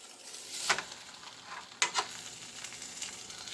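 A spinach and mushroom omelet burrito in a tortilla sizzles in a very hot pan, with a steady frying hiss broken by a few sharp crackles and spatter pops, close and fairly quiet, no talking.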